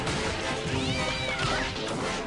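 Cartoon cat-fight effect during an animated pony episode, with a dense, continuous brawl of yowls and meows and crashing scuffle noise throughout, loud and close with no talking.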